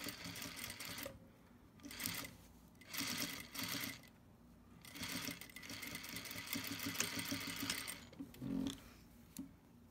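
A sewing machine stitches fabric for a bow tie in several short whirring runs separated by brief pauses, close but fairly quiet, with no voices.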